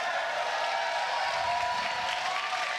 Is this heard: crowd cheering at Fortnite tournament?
yes